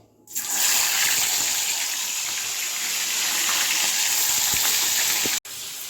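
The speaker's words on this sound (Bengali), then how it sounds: "তেলটা দেখো খুব ভালো করে গরম করে নিয়েছি এবারে মাছগুলো একটা একটা করে আমি দিয়ে দেবো" Koi fish dropped into very hot oil set off a sudden loud, steady sizzling hiss that holds for several seconds, cut by a brief break near the end.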